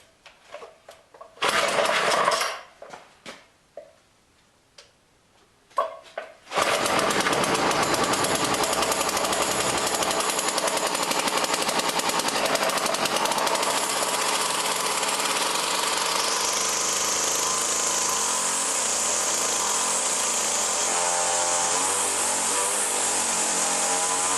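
A Poulan weed trimmer two-stroke engine: a few sputtering pull-start bursts, then it catches and runs at a loud, steady, high-pitched buzzing idle that stays fast and close.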